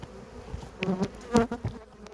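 Honeybees buzzing close by around a hive, several droning hums rising and fading as insects fly past, over a faint background hum.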